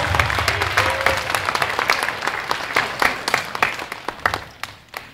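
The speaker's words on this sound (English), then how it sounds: "Can we have another round of applause?" Audience at a school show clapping in a room, a dense burst of many hands that gradually thins into scattered, sharper individual claps as it winds down over about five seconds.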